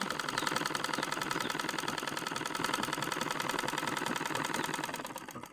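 Steady, fast-rhythmed stitching from a sewing machine working on Hmong trousers runs continuously for several seconds at a moderate level, tapering at the end.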